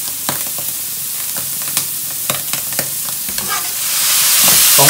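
Steamed-fish soy sauce is poured down the side of a hot wok of stir-fried chopped chili for a double-chili fish head. Sharp spatula scrapes come first, then a loud, swelling hiss of sizzle rises as the liquid hits the metal.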